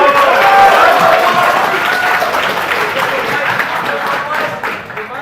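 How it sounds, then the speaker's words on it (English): A crowd at a party convention assembly applauds the candidates, loud sustained clapping filling the room for several seconds. "So I say we give them a final round of applause."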